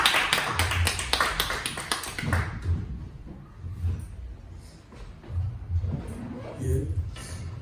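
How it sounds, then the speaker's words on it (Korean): A church congregation at a revival Bible meeting bursts into dense, brisk applause that fills the first couple of seconds, then thins into scattered claps beneath a voice speaking over the room. "우리 하나님께 감사 박수 올립니다"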